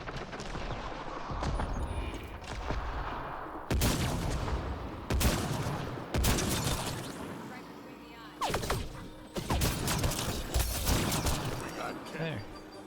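A video game gunfight with repeated loud gunshots and bursts, some near and some farther off, spread irregularly through the scene while someone talks over part of it.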